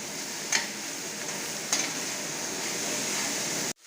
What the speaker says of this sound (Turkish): soğanlarımızı ilave ediyoruz ve güzelce homojenize bir şekilde karıştırıyoruz